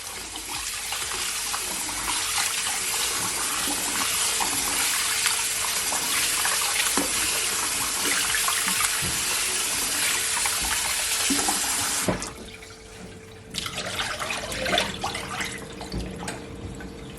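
Tap water running steadily into a bowl of rice being washed in a kitchen, a continuous splashing rush that cuts off briefly near the end and then resumes more unevenly with drips and swishing.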